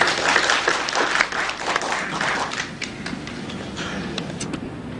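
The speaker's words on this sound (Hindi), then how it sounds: "जोरदार तालियों के साथ उनका स्वागत करें।" An audience at a waste-reduction workshop breaks into loud, sustained applause to welcome a speaker, dense clapping that fills the room and eases off slightly toward the end.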